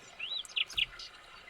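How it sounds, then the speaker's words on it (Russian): Small birds sing out of doors: a few short, high chirps and a rising whistled note, clear but fairly quiet over a soft background hiss. "Почему поют птицы?"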